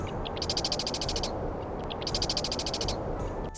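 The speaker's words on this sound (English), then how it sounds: "marsh wren," Marsh wren calls from the Skyrim video game: two bursts of rapid, evenly pulsed high chattering trills, each about a second long, over a steady low ambient hum of the game's wilderness.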